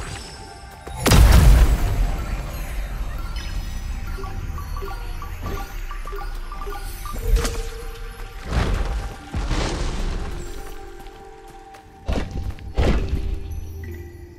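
Bombs detonate in Kena: Bridge of Spirits, a sharp loud boom up front followed by several more thudding blasts and crackling bursts spaced irregularly over ambient game music and effects.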